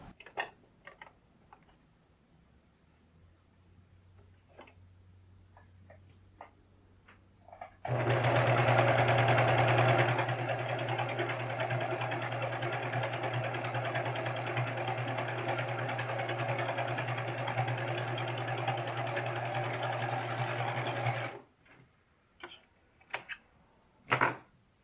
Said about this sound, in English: I'm going to take it over to the serger and just serge right above this line